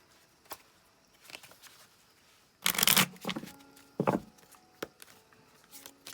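Amanda Rose message cards being shuffled by hand, with soft taps and handling rustles and two louder riffling bursts close by, no one speaking.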